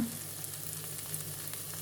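Soft, steady crackle and sizzle of a few drops of oil heating in a pan, faint and continuous.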